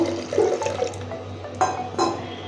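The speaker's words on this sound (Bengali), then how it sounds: "আর লাগবে জল সেদ্ধ করার জন্য পরিমাণ মতো জল দিয়ে দেবো" Water is poured into a pot of lentils for boiling, giving close splashing and trickling bursts with a few distinct gushes, over a faint steady background hum.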